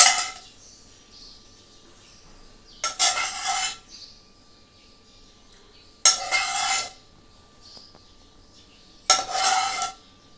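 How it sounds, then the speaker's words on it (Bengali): A metal spatula scrapes and clinks against a pan three times in short bursts while spreading leftover oil from fried brinjal, with quiet pauses in between. "এই যে বেগুন ভাজার যে তেলটা, এই তেলটা আমি খুন্তি দিয়ে দিচ্ছি"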